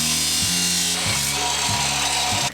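A metal pipe piece cut for a big-turbo setup on an E28, giving a loud, steady grinding rasp broken by regular strokes about every half second, close up with no talk.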